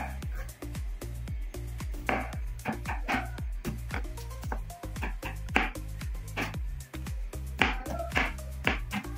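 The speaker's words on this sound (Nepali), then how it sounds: "लसुन, गोरबेडा, धनिया अनि प्याज यिनीहरू सबै काटेर मसिनो गरेर तयार गर्ने" Sharp knife taps on a cutting board as garlic, ginger, coriander and onion are chopped finely for Nepali capsicum chicken, a quick irregular rhythm of close, crisp strikes with a low background hum.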